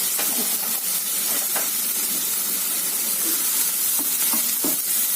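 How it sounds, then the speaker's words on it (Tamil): Cumin seeds and chopped onion frying in hot oil for a bread channa masala, a steady dense sizzle running throughout with a few soft stirring knocks, close and fairly loud, no voices. "ஜீரகம் பொரியுதுங்க நல்லா பொரியட்டுங்க"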